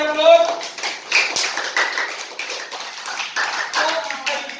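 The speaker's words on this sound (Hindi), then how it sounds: "अपने लिए जोरदार ताली बजाइए आप लोग" Children in a classroom clap together in a brisk, uneven burst of hand claps, close and lively, with voices mixed in.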